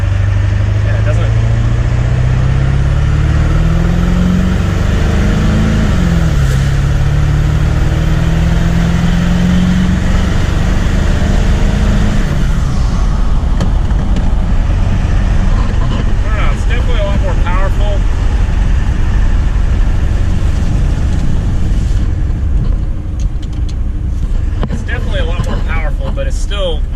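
A Ford 7.3 Powerstroke diesel truck with a no-boost fault pulls away hard from a stop, its engine drone rising in pitch, dipping at a shift, then climbing again, loud and close throughout with someone talking over it.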